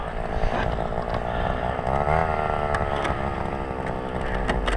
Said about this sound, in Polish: patrz jak się odpala wiertło